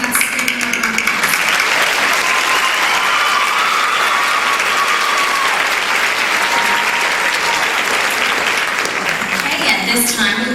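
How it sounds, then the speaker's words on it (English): Loud, sustained applause from a large audience at the 2008 Miss Nebraska pageant for the overall winners, a thick roar of clapping with crowd noise and voices mixed in. "let's give them a round of applause."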